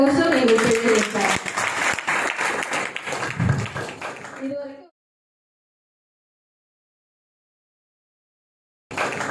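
An audience at a Christmas church programme claps and cheers loudly for several seconds, the applause fading out into silence before a brief burst of sound returns.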